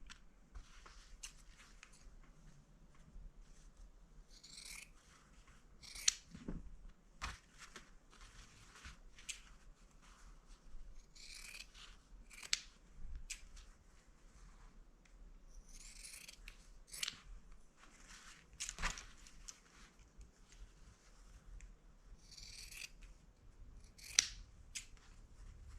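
Scissors snip through a sewn fabric Christmas table runner, trimming thread and seam edges in a series of short, crisp cuts spaced irregularly, close and fairly quiet with no talking.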